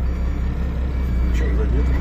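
A Kalmar DCE container handler with poor brake smoothness and odd noises, rumbling steadily at low pitch while moving, loud and close, with a faint higher whine rising near the end.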